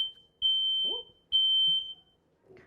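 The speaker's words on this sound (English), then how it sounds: "The fire alarm goes off." A smoke-type fire alarm goes off indoors with two long, piercing high beeps of equal length, separated by a short gap. Faint voices and small background noises come through between the tones.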